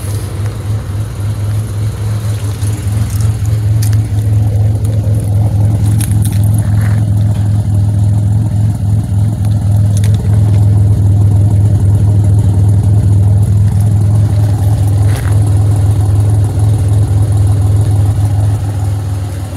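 A supercharged car engine with its blower pulley upsized to 3.4 inches idles steadily, loud and close, a deep continuous drone with mild rises in pitch from light revving.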